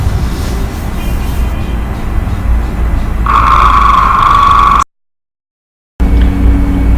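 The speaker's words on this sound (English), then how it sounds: "the sound you just heard is the sound of what happens in the oven room where the final work" Steady roaring machinery in a car paint oven room during a 1996 Mercedes-Benz W202 C180 restoration, with a constant loud rumble, a high whine joining partway through, then a brief cut to silence.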